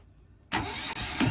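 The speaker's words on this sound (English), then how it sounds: "Here's the motor starting with all of that stuff connected." Yanmar 1GM10 single-cylinder marine diesel aboard a boat cranks and catches abruptly after a quiet moment, then runs loudly and close for about a second.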